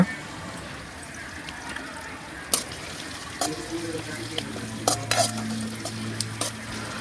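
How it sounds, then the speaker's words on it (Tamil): Peanuts fry and sizzle in a pan with sautéed ingredients, stirred with scattered sharp scrapes and clinks against the pan, close and moderately loud, with a low hum and a little background speech. "இது நல்லா வதங்கினதுக்கப்புறமா வேர்க்கடலையை கழுவி உள்ளே சேர்த்திக்கலாங்க"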